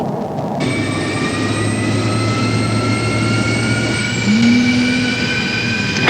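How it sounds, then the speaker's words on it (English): An F-16C's jet fuel starter spins up with a loud, steady high whine of rising tones over a broad roar, joined midway by a lower sustained hum as the engine winds toward idle. "We only use one switch to turn on the battery and another switch to start the jet fuel starter."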